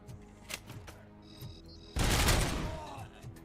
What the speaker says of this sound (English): Damn, grenades.